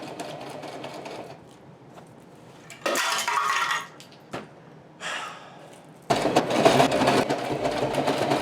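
A sewing machine stitches Velcro onto a Mandalorian costume piece, running in several loud bursts separated by quieter pauses, close by and with no talk.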